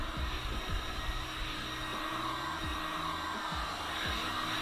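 A heat gun blows hot air over sound-deadening material inside a camper van, a continuous close whooshing hiss with a motor whine. It runs steadily the whole time, and there is no talk.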